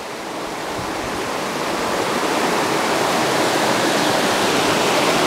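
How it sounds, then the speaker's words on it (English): River rapids rushing at a fishing spot beside sand below a bridge, a loud continuous broadband roar of water that swells slightly and holds steady, with no voices. "There's the first rapid, second rapid."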